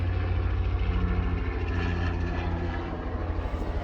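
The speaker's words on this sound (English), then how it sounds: "And that is a helicopter going overhead." A helicopter drones steadily overhead, a low engine and rotor rumble that stays loud throughout and fades slightly toward the end.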